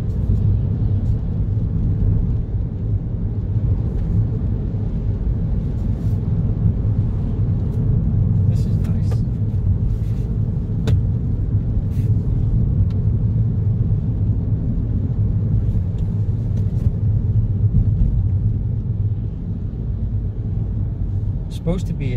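Steady low road rumble from a Peugeot 208 Allure Premium PureTech, 2020, driving on a busy road, heard from inside the cabin as a constant drone with faint tyre and wind noise throughout.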